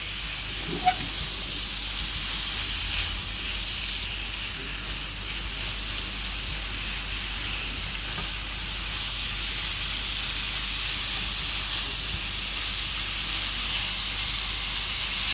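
Meat stir-fried in a pan sends out a continuous loud hissing sizzle that holds steady throughout, with one brief clink near the start.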